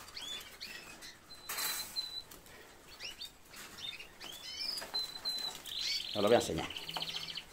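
A large yellow pet bird, chirping in short high tweets close by, mixed with wing flaps and fluttering, with a person speaking briefly in between.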